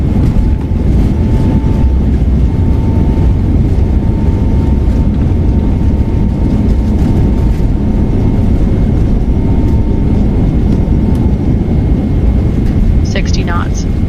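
A Jin Air Boeing 777-200ER rolls down the runway after landing at Jeju with its thrust reversers deployed. A loud, continuous broadband roar fills the cabin without letting up, and a thin tone hums faintly above it.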